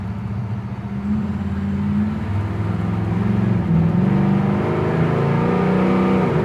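A 1970 Oldsmobile 442 W-30 engine idles while warming up, a steady low rumble rising slightly in pitch and loudness as it runs, close by, with no talking.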